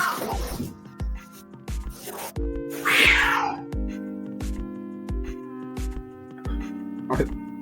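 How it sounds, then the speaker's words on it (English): Two cats, a small one and a big one, fighting, with one chasing the other, giving drawn-out yowls and a sharp hissing burst near the middle. Throughout there is a regular rhythmic thumping, with occasional voices underneath. "Them cats going at it, boy. The little one beating up the big one."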